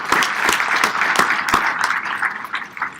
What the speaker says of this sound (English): we must give it a round of applause